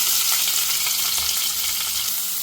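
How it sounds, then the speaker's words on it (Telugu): Finely chopped onions hit hot oil with cumin and broken dried red chillies, a loud, dense, continuous sizzle and crackle close by, with no talking. "ఇప్పుడు సన్నగా తరుక్కున్న ఉల్లిపాయ ముక్కలు వేసేసుకోండి"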